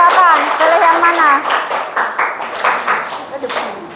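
Classmates in a classroom clapping for a friend, a brief burst of close applause mixed with children's voices and a teacher talking over it.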